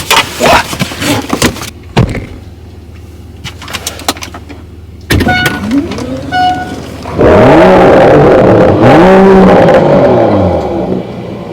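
A 2021 Mercedes-AMG GLE 53 fires up and revs hard nearby, loud rising and falling engine sweeps building into a sustained roar, with a door thud and faint birdsong in the background and no talking.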